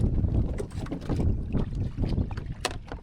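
A boat engine rumbles low and steady under buffeting wind and water noise, close to the microphone.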